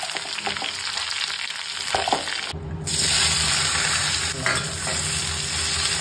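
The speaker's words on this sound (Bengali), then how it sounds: "মশলা দিয়ে ভাজা হচ্ছে" Mutton for Bengali mutton kosha, coated in oil, salt and turmeric, fries with spices. A loud, close sizzle is broken by stirring scrapes, briefly dips, then returns steadier and fuller, with no voices.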